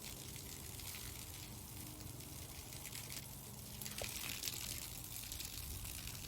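Water spraying steadily from a 100 ft Lefree garden hose, a continuous hissing gush, close and even throughout with no voices.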